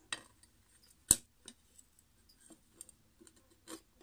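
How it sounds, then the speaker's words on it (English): A glass panel is set onto a new reptile enclosure, making faint scattered clinks and light taps with one sharper knock near the start, all quiet in a still room. "Okay, so we'll pop the glass on."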